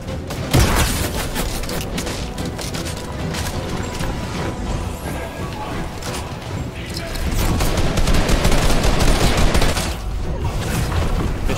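Shotgun blasts and other gunfire crackle through a busy video game firefight, with dense overlapping shots throughout and a louder surge near the end, while players talk over the action.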